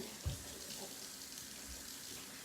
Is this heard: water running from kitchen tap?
yes